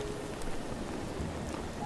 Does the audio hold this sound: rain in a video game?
yes